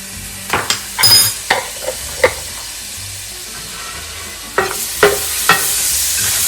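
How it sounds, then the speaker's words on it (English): Minced garlic sizzling in a frying pan with a bit of oil, with several short scraping stirs of a utensil against the pan, close and fairly loud over a low frying hiss, and no speech. "I'm going to add in some minced garlic."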